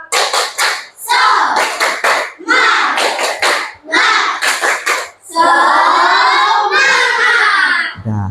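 A group of children performs the Indonesian "tepuk semangat" spirit clap in sharp rhythmic bursts of claps, alternating with loud chanting and shouting, all close and energetic.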